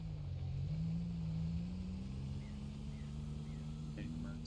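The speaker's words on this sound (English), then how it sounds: "Yeah, the cars certainly do sound a bit quirky, but I kind of like the sound for some weird reason." A quirky video game car engine hums in a steady, droning tone, with a slight rise in pitch partway through, running continuously in the background at moderate level.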